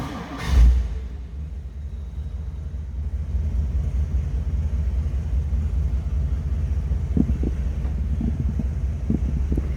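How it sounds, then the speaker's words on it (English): A 1959 Ford Thunderbird convertible's engine cranks with a brief loud burst, then settles into a steady low rumbling idle that runs on, close by. "Let's go ahead and fire this up."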